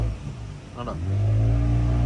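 A car revs hard in the Andaman forest and its engine note swells and holds steady and loud near the end. Brief talk and noise come before the rev.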